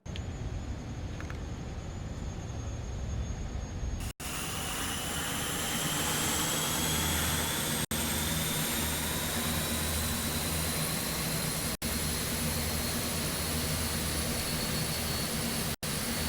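Aircraft engine number 2 spooling up in a flight simulator game, a steady loud jet-like roar with a rising whine that holds for the whole stretch, broken only by a few brief dropouts.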